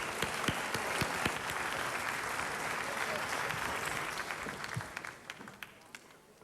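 Audience applause for a band at a 2010 Sicilian song festival: a crowd claps densely and steadily with sharp individual claps standing out, then the clapping thins and fades toward the end.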